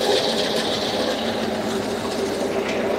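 A tractor runs a PTO-driven wheat reaper during a wheat harvest in India. Its mechanism gives a steady, fast rattling hum at a moderate, even distance.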